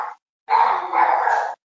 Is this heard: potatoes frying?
no